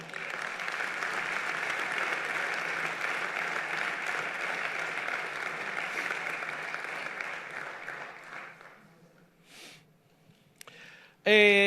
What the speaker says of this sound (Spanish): Dele un aplauso a la Biblia